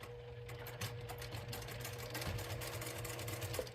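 Close, fairly quiet sewing-machine whirring as the stitch runs straight across the fabric, a steady mechanical hum with faint rhythmic ticking and no voices.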